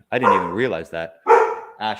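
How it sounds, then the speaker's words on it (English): A pet dog barks a couple of times in a home, heard in short sharp bursts close by, mixed closely with someone talking over it. "that was my dog"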